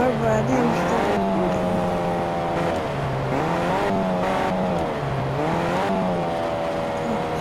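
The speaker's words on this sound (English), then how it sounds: "I want a sports car." Sports car engine in the video game Fortnite, a continuous loud revving drone with shifting pitch and brief tire squeals, running steadily under overlapping talk throughout.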